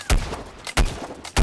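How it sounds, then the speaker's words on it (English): Three sharp, loud gunshots from Plants vs. Zombies Garden Warfare, fired about half a second apart in a steady rhythm, each one booming and then fading quickly, with nothing else in between. "I'm always being shot at."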